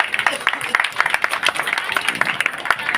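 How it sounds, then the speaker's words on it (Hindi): Audience applause at a political community gathering honoring a social mission worker, dense steady clapping lasting throughout at moderate loudness, with a busy crowd texture. "आप जरूर तालियां बजाएं"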